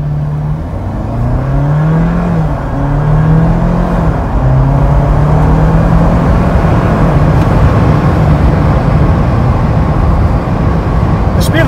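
A 2021 Jeep Wrangler Rubicon 4xe hybrid pulls away hard from a brake-torque launch on a 55 mph road, its engine note climbing through rising sweeps and gear changes into a steady roar, heard from inside with someone talking throughout.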